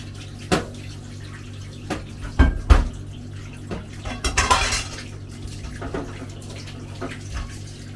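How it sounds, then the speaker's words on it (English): A tap runs in a home kitchen while a can is rinsed in a pot, with a low steady flow broken by metallic clinks and knocks of the can against the pot, close by and without speech. "Then we'll wash off the can"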